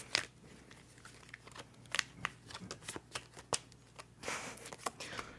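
Tarot cards being shuffled by hand, a run of crisp riffling snaps and soft papery slides in an irregular rhythm, close and fairly quiet with no talking.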